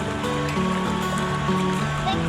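River water flows steadily around people tubing down a river in North Georgia, a continuous close rush with tonal sounds layered over it.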